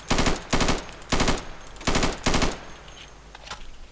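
Rifle gunfire in burst mode in the video game Insurgency, five loud, close bursts of rapid shots in an even rhythm, followed by quieter distant shots.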